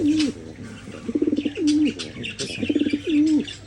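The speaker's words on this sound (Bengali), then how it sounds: "এটা হচ্ছে কিন্তু আপনার অরিজিনাল টেডি এই যে কবুতরটা" Teddy pigeons in a loft coo in repeated low rolling phrases, several birds calling close by with soft chirps and brief fluttery bursts between the coos.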